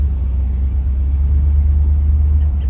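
A 1969 Corvette pulls out of a parking lot, its engine giving a loud, steady low rumble close by that holds evenly, with no talking.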